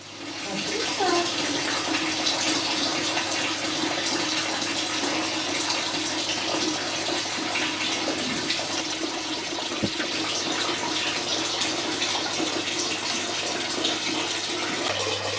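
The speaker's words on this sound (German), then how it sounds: "Deckel auf, Wasser raus." Water poured out from under a lid after soaking rose hips, a steady loud rushing splash that runs continuously without pause.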